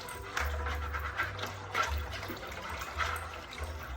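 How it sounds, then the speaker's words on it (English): A cup of hot water pours into a bowl for cinnamon roll dough, a close, gurgling trickle that swells and eases in a few surges over a low background hum. "Then I've got 1 cup of hot water."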